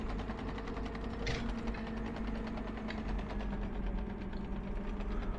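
Volvo EC300E excavator in Farming Simulator 17 with its hydraulic rams working, a steady mid-pitched engine drone and whirring hydraulic hum that stay even and continuous throughout.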